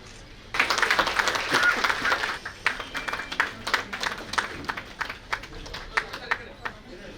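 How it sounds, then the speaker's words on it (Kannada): An audience at a stage event for a biography book release breaks into loud, dense applause as the chief minister, Siddaramaiah, is welcomed onto the stage. The clapping later thins into scattered, separate claps. "ಸನ್ಮಾನ್ಯ ಶ್ರೀ ಸಿದ್ದರಾಮಯ್ಯ ಅವರನ್ನ ಜೋರಾದ ಚಪ್ಪಾಳೆಯೊಂದಿಗೆ ವೇದಿಕೆಗೆ ಬರಮಾಡಿಕೊಳ್ಬೇಕು."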